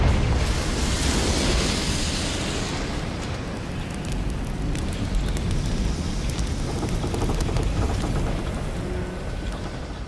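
Confringo blasting spell exploding in Hogwarts Legacy, a loud, steady roaring rumble like a fiery blast that fills the whole stretch without letting up.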